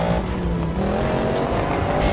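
A stolen supercar tears away at speed, its engine loud and close with a hard roaring note and a brief tire squeal, heard alone without voices.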